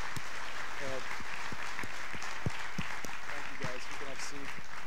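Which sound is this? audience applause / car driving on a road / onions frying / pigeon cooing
audience applause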